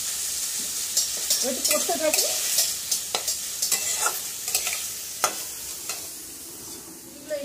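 Chicken marinated with chicken masala frying in white oil in a kadai, a steady bright sizzle with repeated stirring scrapes and clicks, close by; a brief voice speaks early on.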